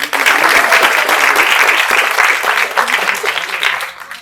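Fans at an actor's speech event in a school clap loudly and continuously, a dense burst of applause that swells and then tapers off toward the end.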